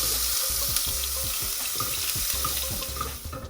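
Hot water pours steadily into a pan of meatball curry with cooked spices, a continuous splashing rush over rhythmic bubbling and sizzling from the pot.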